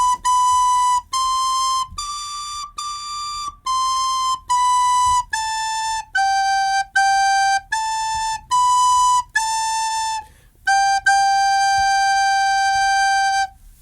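Recorder playing the second phrase of Ode to Joy: a run of about a dozen clear, steady, sustained notes, each briefly separated, loud and close with no voice.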